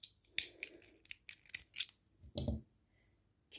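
Small scissors snip crochet thread on a handmade piece, giving a series of sharp, close, irregular clicks and cuts, followed by a louder rustle of the thread and scissors being handled.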